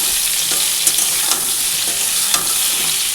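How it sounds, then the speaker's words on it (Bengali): Pointed gourd (potol) fries in hot oil in a pan as a loud, continuous close-up sizzle with a few faint stirring taps and no speech. "পটলটা আগে ভেজে তুলে নিব"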